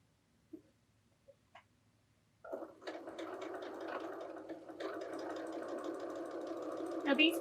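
After a few quiet taps, a sewing machine starts up and stitches quilt block fabric with a close, steady whirring drone that continues to the end, briefly intensifying near the finish.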